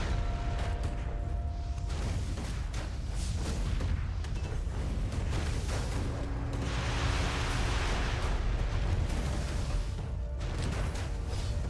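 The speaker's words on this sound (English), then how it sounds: "I reckon another rocket barrage coming in" Rocket barrage in the strategy game W3RR, a steady rumbling wash of distant explosions and artillery-like bursts rolling on continuously at moderate loudness.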